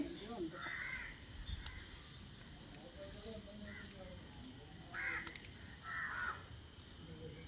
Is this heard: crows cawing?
yes